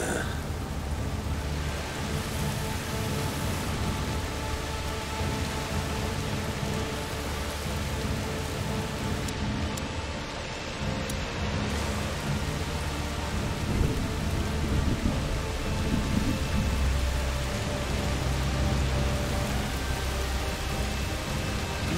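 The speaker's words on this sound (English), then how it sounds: "Bloody rain. It's perfect." Steady heavy rain pours down with distant rumbles of thunder rolling underneath, a continuous stormy wash of sound without any clear talking, in the video game A Plague Tale: Requiem.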